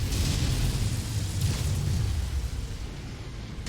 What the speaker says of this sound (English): artillery's firing into your houses. Don't mind the ear-shattering noise.